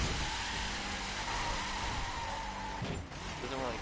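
Car drifting in the racing video game The Crew, a steady engine roar with a brief tire squeal near the end, loud and close, with no talk over it.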